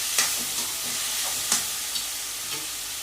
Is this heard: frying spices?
yes